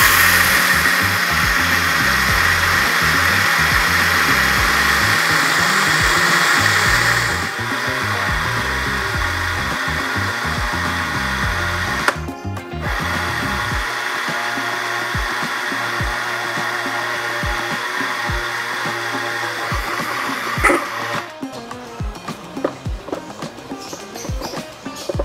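A power grinder runs loudly, powdering wheat germ and bird feed pellets, with a steady whir that shifts in pitch partway through and ends in rattling, uneven grinding near the end.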